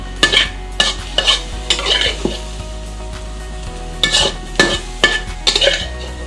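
Metal spatula scraping and clattering against a wok in quick bursts while quail meat sizzles steadily underneath, with brief pauses between stirring strokes.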